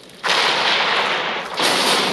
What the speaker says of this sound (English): Two separate explosions at the same time rock a natural gas pipeline in the Mexican state of Guanajuato